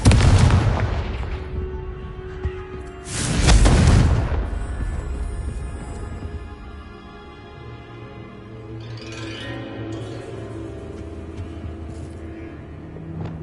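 Confringo blasting spells in Hogwarts Legacy set off loud booming explosions, one at the start and a second about three seconds in, each rolling off into a long rumbling decay with a faint game score underneath.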